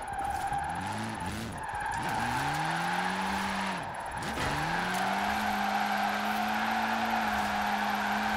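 A drift car in Forza Horizon 4 howls through long sustained tire squeals while the engine revs rise and fall, loud and continuous, with brief gear-change dips and a steady screech carrying the slide.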